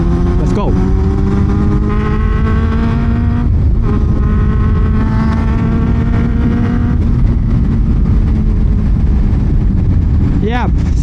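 A Honda CB400 motorcycle with VTEC revs up in a short pull, its engine note rising steadily in pitch and loudness, nearby and continuous with a brief shift near the end.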